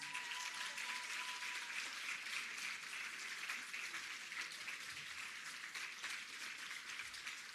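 Audience at a PEP scholarship awards ceremony cheering and applauding a scholarship recipient, sustained clapping with a faint shout early on, steady and moderately distant throughout.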